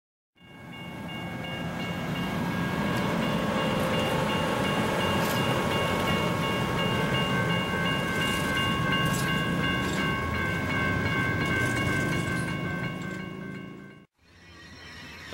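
Amtrak Southwest Chief passenger train rolling past with a private sleeping car on the rear, a loud steady rumble and wheel noise holding near for about fourteen seconds with sustained tonal whine, then cutting off abruptly.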